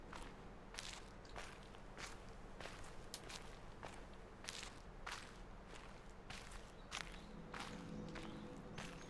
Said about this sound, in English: I don't yet hear a difference in the sound of the footsteps